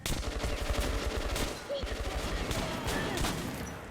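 Rapid automatic gunfire and bursts of shooting in the video game Metro Last Light Redux, loud and continuous with short pauses, while voices shout in the background.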